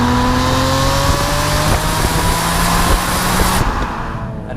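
BMW Z3M Coupe straight-six engine revving hard with a metallic rasp, a loud, close, rising mechanical howl that climbs steadily in pitch before easing off near the end.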